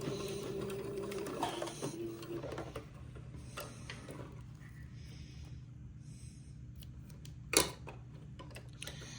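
A sewing machine runs quietly, stitching forward and backward over elastic to tack it in place on a diaper shirt, with a brief burst of stitching at the start followed by softer mechanical ticking.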